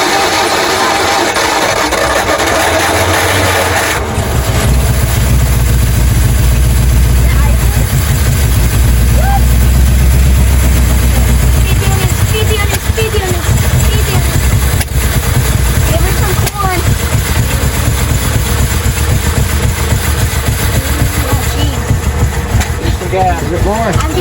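A 1956 Ford Fairlane V8 running after sitting unused for years, a loud, close, rough engine rumble that swells as the throttle is opened and holds steady, with people talking over it.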